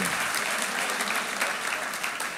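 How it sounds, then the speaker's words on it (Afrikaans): Audience applause for a speaker at a marriage evening event, a steady dense wash of clapping filling the room at even loudness with no talk over it. "Hoor jy klap die mense vir jou?"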